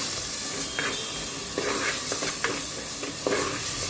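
Salt and spice powders are stirred into a sizzling tomato dal mixture in a pan, giving a steady close fry hiss with soft scraping strokes of the spoon.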